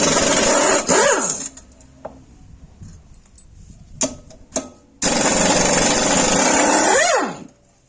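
A battery impact wrench spins wheel nuts loose on a Shifeng 240 tractor, giving loud buzzing bursts near the mic, one at the start and a long one near the end, with clattering handling in between.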